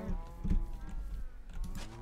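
Cows mooing in Minecraft, a couple of low, drawn-out blocky moos close by with faint background game ambience and no talk.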